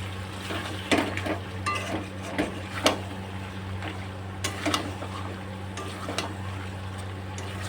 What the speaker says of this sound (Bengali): আলুগুলো দিয়ে এবার আর একটু কষাই করে নেবো